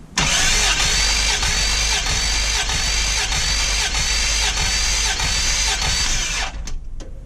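Toyota FJ62 engine cranking over on the starter for a cylinder compression test, a loud, steady rhythmic churn of regular pulses lasting about six seconds before it stops abruptly.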